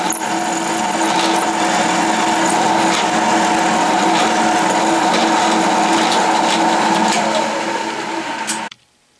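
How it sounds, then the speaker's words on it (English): A Delta variable speed drill press bores a 1/4 inch hole, giving a steady, loud whirring drone close by that runs nearly nine seconds before cutting off abruptly. "This is my new Delta variable speed drill."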